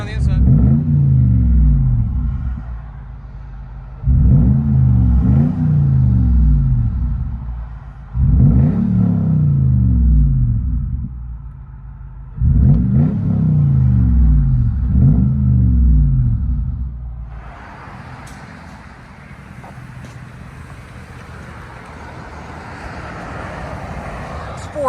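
Lexus GX 470 with a 4.7L V8 and fully straight-piped exhaust revving hard, four loud, deep blips in a steady rhythm followed by a lower idle, recorded up close.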